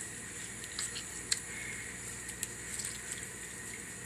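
Steady running cold tap water with soft splashing and faint patter, fairly quiet and continuous, no voices.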